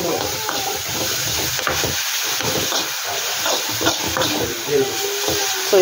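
Onion mixture sautéing in a pan for raita, a steady broadband sizzle with scraping stirs throughout, close and fairly loud, with no talk.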